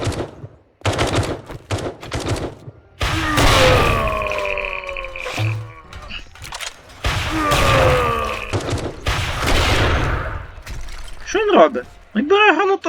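Automatic rifle fire in the zombie video game 7 Days to Die rings out in loud, rapid bursts, mixed with crashing destruction and a player's excited shouting and laughing over the action.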